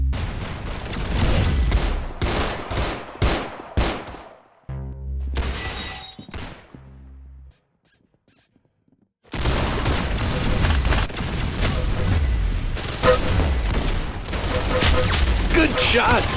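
Rapid gunfire bursts from the Roblox game Arsenal crack loudly in quick volleys, broken by a short run of mechanical reload clicks and a brief silence before the shooting resumes in dense bursts.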